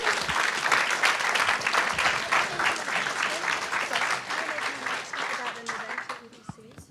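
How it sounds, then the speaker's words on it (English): Sustained applause from an audience at a community conversation on ending racial discrimination, dense and steady for several seconds before thinning out and fading near the end. "If we can get a strong hand of applause for all of our guest speakers."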